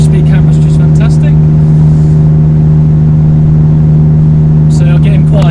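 An Alfa Romeo 147 GTA with a Busso V6, an Auto Delta back box and a Wizard exhaust holds a steady, loud engine drone while cruising, with brief voices over it.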